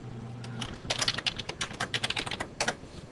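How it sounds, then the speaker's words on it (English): A password typed on a computer keyboard, a quick close run of irregular clacking keystrokes with a brief pause near the end, heard alone with no talk. "you're quite welcome to film me typing the password if you want"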